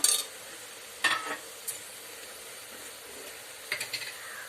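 Vegetables and peanuts are stirred in a pan for bisi bele bath, with a few brief scraping and clinking strokes over a faint low sizzle, fairly quiet with pauses between.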